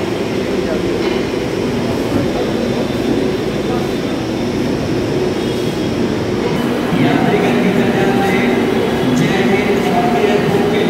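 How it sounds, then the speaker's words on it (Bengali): An older rake on the Kolkata Yellow Line metro arrives at the station with a loud steady rumble and rising wheel noise, heard from the platform, while people talk in the background. "এই যে মেট্রো ঢুকে গেছে, পুরনো রেক দিয়ে আজকে চালানো হবে"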